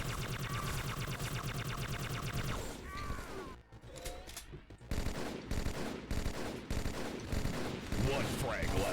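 Plasma gun fire in a video game deathmatch, a rapid mechanical burst of repeated shots followed after a brief lull by further irregular volleys of bursts, steady and close.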